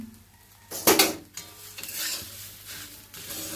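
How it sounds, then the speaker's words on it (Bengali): Hand-made puffed rice is stirred in a pan, with a sharp metal scrape and clatter near the start followed by rustling, dry stirring and a light sizzle, close and alone. "মুড়িটা দিয়ে এটা ভালো করে ভেজে নেব।"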